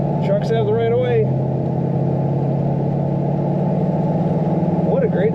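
Steady, loud engine rumble from a 1937 Ford Minotti Phantom Coupe street rod while driving, continuous throughout with voices talking over it.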